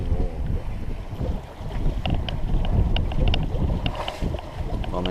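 Steady wind of over 12 knots roars across the microphone with water rushing and splashing against a moving sailboat near Stintino, Sardinia, loud and continuous throughout.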